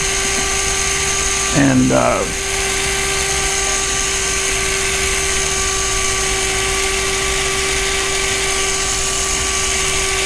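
A small drill bores holes in the motor arm lugs of a 480mm quadcopter frame with a steady, high-pitched whine throughout, while a person talks briefly near the start.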